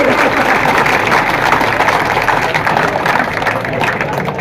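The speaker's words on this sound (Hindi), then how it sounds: "जोरदार ताली बजाते हैं" Loud, sustained applause from a large crowd seated and standing at an outdoor protest rally and sit-in demanding district status for Renwal, steady dense clapping throughout with a general crowd wash beneath.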